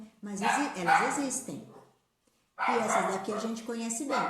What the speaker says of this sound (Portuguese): Desculpem o barulho, gente, são as minhas cadelinhas.